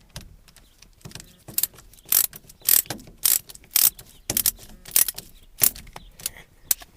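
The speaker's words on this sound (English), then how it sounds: "Then we got to put this screw back in there." A screw being driven back in during ignition switch repair on a 1980–91 Ford pickup with tilt steering, a close series of sharp, irregular ratcheting clicks and metallic ticks.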